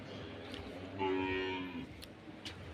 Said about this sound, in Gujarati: ગાયોને ચરાવવાની તૈયારી કરે છે, ચરાવવા લઈ જવાની તૈયારી કરે છે